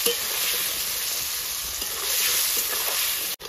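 Hot oil sizzles loudly and continuously in a pan of frying potatoes, a dense crackling hiss that ends abruptly with a brief dip near the end.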